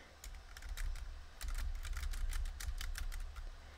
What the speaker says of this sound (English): insert typing noises